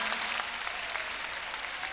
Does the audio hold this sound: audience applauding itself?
yes